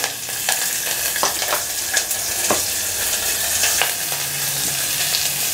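Curry leaves and small shallots for hotel-style tiffin sambar sizzle steadily in hot oil, with a dense, even frying hiss and a few sharp crackles and spoon scrapes near at hand, no voices.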